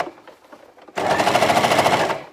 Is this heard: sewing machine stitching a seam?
yes